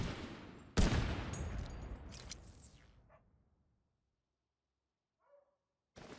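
Loud bursts of rapid gunfire from the shooter game Division 2, a sharp volley that trails off into near silence before a few faint game sounds and one abrupt final blast.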